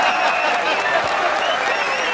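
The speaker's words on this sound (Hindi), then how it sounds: "सब लोग ताली बजाओ भाई।" A rally audience applauds during a Hindi political speech, a dense, steady wash of clapping that holds evenly loud for the whole stretch with no voice standing out above it.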